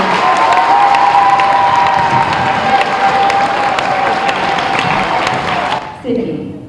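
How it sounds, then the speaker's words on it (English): Sustained audience applause and cheering at a school geography bee, a dense wash of clapping from a crowd in a hall that swells and then fades out abruptly near the end. "audience, at this time, please give a big round of applause to Matthias and Zach"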